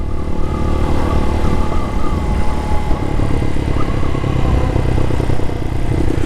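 Can-Am Spyder three-wheeled motorcycle being ridden, a loud continuous engine drone with wind rush heard close from the rider's position, steady throughout without talk.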